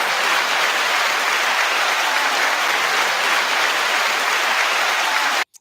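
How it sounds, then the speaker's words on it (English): Applause on a music news show, a continuous dense wash of clapping at a steady level that stops abruptly near the end. "9-second applause to you all"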